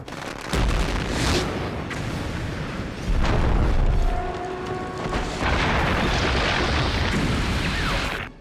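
Stadium building brought down by explosive demolition, a series of deep booming blasts followed by a long rumbling roar of the collapse, loud and sustained.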